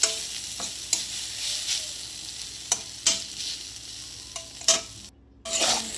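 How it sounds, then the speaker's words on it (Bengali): Ivy gourd (kundri) frying in a pan, a continuous close sizzle broken by sharp spatula scrapes and stirring knocks, one brief dropout near the end, with no voices. "এগুলোকে এবার আমি আর একটু ভেজে নিয়ে তুলে নেবো একটা পাত্রে।"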